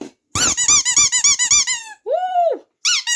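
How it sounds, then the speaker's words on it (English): Toy little men from a flying-saucer story squeak in a fast run of high, loud chirps, then a longer wavering squeal and another short burst. "And they start to squeak."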